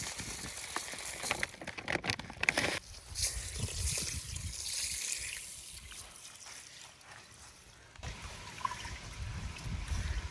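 Rice being rinsed in water in a home kitchen while checked for grains and stones: a close, continuous trickling and sloshing, rising and falling, with no talk.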